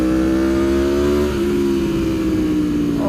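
An Aprilia Tuono V4 motorcycle with a race ECU flash and sprint filter runs loud and close, its engine note dropping and blipping through quick downshifts.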